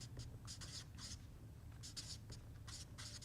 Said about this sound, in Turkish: Ne güzel ses çıkartıyor kalem.